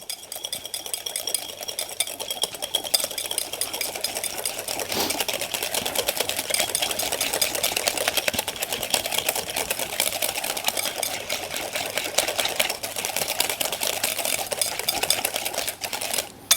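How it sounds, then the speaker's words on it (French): A whisk beats a gelled pectin fruit mixture in a small bowl, with rapid, steady metallic ticking and scraping that runs for the whole stretch at an even close-up level, without talk. "avec mon fouet, je vais donc tout mélanger et tout bien lisser"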